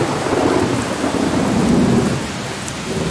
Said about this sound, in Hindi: एक दिन आसमान में काले बादल छा गए और तेज बारिश शुरू हो गई।